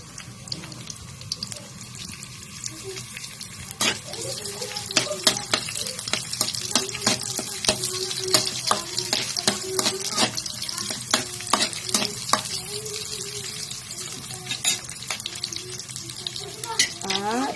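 Onion sautéing in a pan, a steady sizzle broken by repeated sharp scrapes and clinks of a utensil stirring against the metal, fairly close and moderately loud, with running water in the background and no talk.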